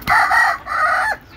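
A local free-range rooster crows loudly and close by on a rooftop, one strained call in two bursts lasting just over a second, with no talk.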